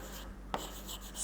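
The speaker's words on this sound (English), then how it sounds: "So I will write your homework in the board." Chalk writes on a classroom board in faint, quick scratchy strokes with a single sharper tap, heard up close for just over a second against a quiet room.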